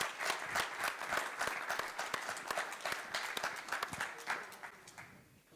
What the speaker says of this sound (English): please give another warm round of applause for our panelists